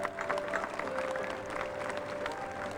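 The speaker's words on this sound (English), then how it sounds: "What a nice round of applause for that accomplishment, huh?" A crowd applauds with steady, dense clapping throughout, heard from somewhat far off at a moderate level.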